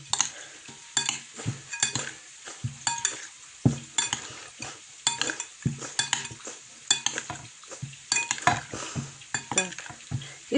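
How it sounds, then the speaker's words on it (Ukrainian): Marinated mushrooms being stirred with oil in a bowl, repeated wet squelching turns and light clinks of a utensil against the dish, close and steady without talk. "Так, гарно-гарно перемішуємо."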